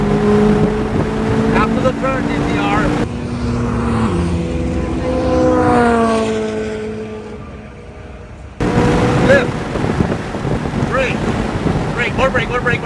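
A C8 Corvette Z06 accelerates hard on the Nashville Superspeedway race track, its engine note climbing steadily under heavy wind noise while a voice talks over it, then briefly dropping away.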